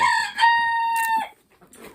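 A rooster crows once on a homestead, loud and close, its call rising and holding before breaking off, followed by a brief faint rustle.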